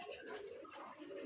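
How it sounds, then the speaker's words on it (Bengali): A pair of pigeons, an Andalusian homer and a female, coo softly in a brief, low, rolling call heard faintly against background noise. "প্রিয় দর্শক, এখানে এক জোড়া কবুতর আছে"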